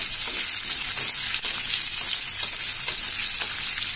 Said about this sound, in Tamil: முதல் இந்த வெங்காயம் கொஞ்சம் லைட்டா வதங்கட்டும்.